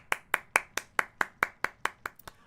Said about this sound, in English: give me another round of applause for them